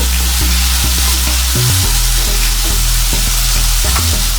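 Mutton pieces sauté in a pan with a loud, dense sizzle. Periodic low thumps and scrapes mark the meat being turned. No one speaks.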